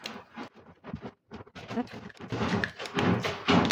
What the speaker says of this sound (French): je suis désolée pour le bruit à côté, c'est mon chat qui est dans sa litière